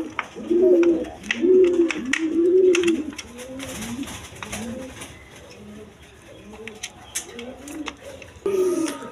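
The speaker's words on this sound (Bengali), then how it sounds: "এইখানে এক পেয়ার রেশার কবুতর আছে" A pair of maxi racer pigeons, male and female, cooing in a run of repeated rolling calls, close and clear, with a few clicks and brief faint noises between the phrases.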